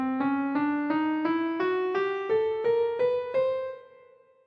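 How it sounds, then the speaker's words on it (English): A ten-tone decatonic scale played as about a dozen evenly spaced, ascending single notes with a bright, harmonic-rich keyboard tone, each struck cleanly and left ringing, the last note fading out alone. "This scale has 10 tones, which means it is called a decatonic scale."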